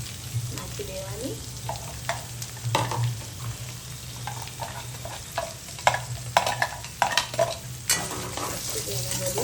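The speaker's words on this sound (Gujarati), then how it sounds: "આ ડુંગળીને આપણે ત્યાં સુધી હલાવતું રહેવાનું જ્યાં સુધી ડુંગળી એકદમ બ્રાઉન" Finely chopped onion and green chili frying in oil while being stirred, a steady sizzle broken by repeated close scrapes and clinks of a spoon against the pan, with no talking.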